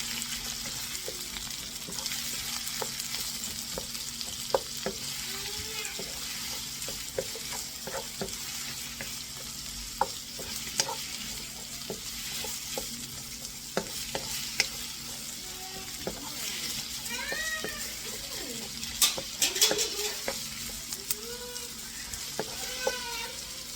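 Onions sautéing in a pan for Filipino mung bean soup, a steady close sizzle with frequent clicks and scrapes of stirring, no voices.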